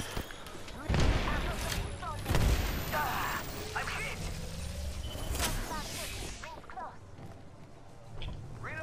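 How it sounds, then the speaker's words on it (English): Gunfire and a grenade blast in a video game firefight, with loud booming hits near one and two seconds, scattered shots and mechanical clatter, and players talking over the action. "Oh god, grenade."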